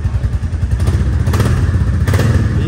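A Royal Enfield Bullet motorcycle engine fires up and settles into a loud, close, rapid thumping beat with some mechanical clatter, no voices over it.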